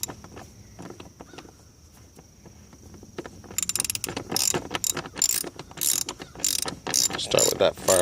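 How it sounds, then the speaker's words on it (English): Ratchet clicking rapidly in bursts as screws are retightened on a Volkswagen air intake housing during a filter change, loud and close after a quieter start, with no talking. "we will then just retighten all of the screws"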